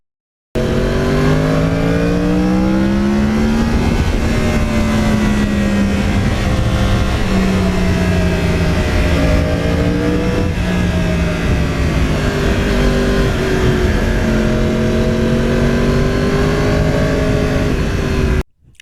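A Yamaha R1 crossplane four-cylinder motorcycle engine heard from the rider's seat, loud and continuous, rising and falling through several rev sweeps with a deep uneven growl and no talking.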